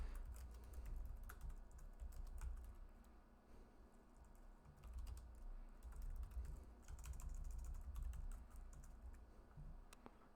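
Quiet, rapid tapping of a computer keyboard while code is typed, with irregular bursts of keystrokes and brief pauses under a low background hum, no voice.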